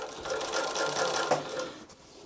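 Heavy-duty industrial cylinder arm walking foot sewing machine, a Typical TW3 343D, stitching a seam with a fast steady mechanical rattle of needle strokes, close and clear, slowing near the end with no talk.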